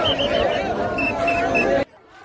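Crowd of warkari pilgrims on the Dive Ghat route, a dense close babble of voices rising together with melodic calls, cutting off suddenly near the end.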